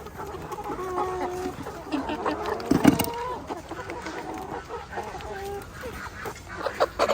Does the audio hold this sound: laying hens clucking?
yes